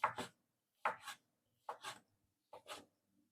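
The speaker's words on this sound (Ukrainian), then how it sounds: "знімаєш оце нарізаєш такими кубиками" Knife slicing cured fish balyk into small cubes on a board: four separate, soft, close cutting strokes at a steady pace, each a short double rasp.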